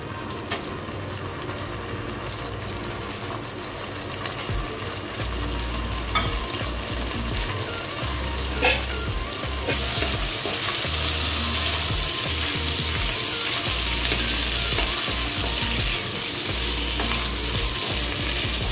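Ginger paste and green chilies fry in hot oil in a pan while cooking banana flower chop, giving a steady close sizzle that grows louder and brighter partway through, with a low background hum and no talking.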